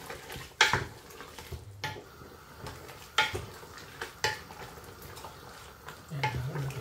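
Chicken pork adobo stirred in a pan, with a quiet sizzle and scattered clinks and scrapes of a utensil against the pan at an uneven rhythm.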